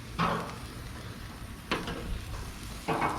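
Steak sizzles on a hot grill: a steady crackling hiss with three sharper bursts as the meat lands or is moved, fairly quiet and with no voices.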